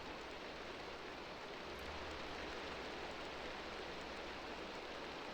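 Steady, even hiss of rain falling in the Minecraft modpack Enigmatica 2 Expert, a continuous wash of noise without pauses and no voices.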